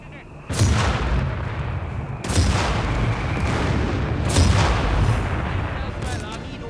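Artillery barrage in the World War II strategy game Company of Heroes 3, including airburst shells and a BL 5.5 gun emplacement: three heavy booming blasts roll out into a dense, continuous rumble of shellfire, loud and close.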